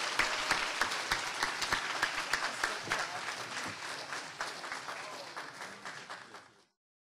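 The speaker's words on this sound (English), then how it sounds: "Give her a round of applause." Audience at an athletic fundraiser applauds for an honoree, close sharp claps standing out at first over a softer crowd layer, the clapping gradually thinning and fading to silence near the end.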